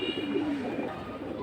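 Silver-marked pigeons coo in a short, soft, throaty warble close by, over a low murmuring background at a pigeon sale.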